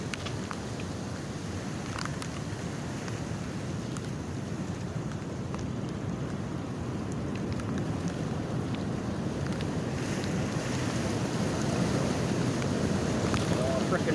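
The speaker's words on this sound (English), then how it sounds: "It's getting really windy out." Strong wind gusting outdoors on open water during late-season beaver trapping, a steady loud roar of wind buffeting the microphone throughout, building slightly toward the end.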